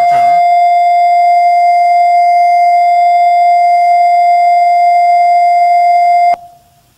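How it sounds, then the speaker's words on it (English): Steady pure tone from an auditory demonstration on inner-ear hair cells, a single loud, unwavering pitch held for about six seconds, then stopping abruptly and leaving near silence. "There's the constant tone."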